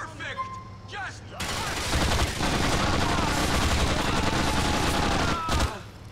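Sustained rapid machine gun fire from the GTA IV video game, The Ballad of Gay Tony, rattles loudly for several seconds after a brief quieter opening with game sounds, then cuts off near the end.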